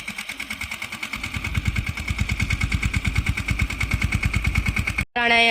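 A tractor engine runs in a farm field with a fast, even thudding exhaust beat and a steady whine above it, close and loud, cutting out abruptly near the end.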